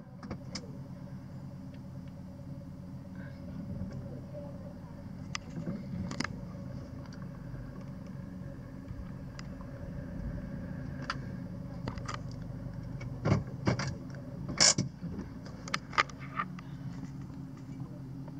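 A 2016 Nissan Kicks 1.6 engine idles steadily at low volume, with scattered clicks and small mechanical taps over the hum.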